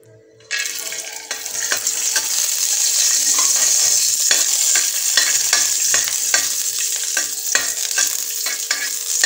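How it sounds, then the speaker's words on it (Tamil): Cashews fry in ghee in a pan for wheat halwa, giving a loud, steady sizzle that starts abruptly and continues throughout, with repeated scraping stir strokes close by. "கொஞ்சமாக நெய் விட்டு முந்திரி பருப்பை வறுத்து எடுத்துக்கோங்க"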